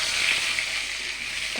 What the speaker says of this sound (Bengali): একটু করে ভেজে নেব।